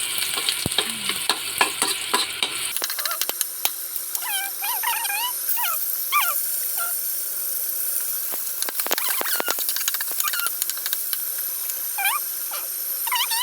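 Garlic fries in a little oil for chop suey, a close, crackling sizzle with spattering pops and stirring scrapes throughout, no talk.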